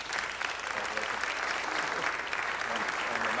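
Applause at a Los Angeles city council meeting honoring an award recipient, continuous, even clapping from a room of people, with faint voices mixed into the sound.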